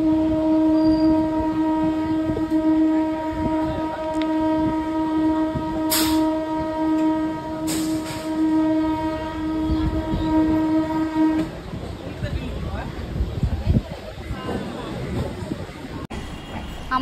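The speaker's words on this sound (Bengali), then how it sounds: "আমার ট্রেনটা কিন্তু এখন অলরেডি ঢুকছে ইডেন গার্ডেনের দিকে" A Kolkata local train on the Dum Dum to Majerhat line rolls into Eden Gardens station, sounding a long, loud horn blast for about eleven seconds before the rumble and rattle of the carriages continue alone.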